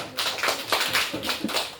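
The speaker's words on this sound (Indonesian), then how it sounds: "Tepuk tangan untuk Noel." A classroom of students clapping for a classmate named Noel, a brief round of scattered, moderately loud claps in uneven rhythm.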